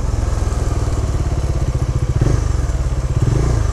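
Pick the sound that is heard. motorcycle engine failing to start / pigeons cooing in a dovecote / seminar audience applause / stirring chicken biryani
motorcycle engine failing to start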